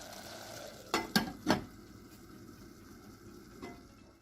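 Soft sizzling of chicken-of-the-woods mushrooms sautéing in a pan as their released water cooks off, with a few sharp utensil scrapes and stirs early on, fairly quiet and close.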